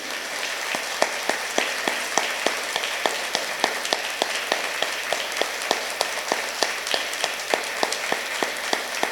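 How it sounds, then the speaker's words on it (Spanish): A church congregation applauding together, dense and steady at close range with a regular beat of sharp claps running through the whole stretch, no voices on top. "Un fuerte aplauso a Jesucristo."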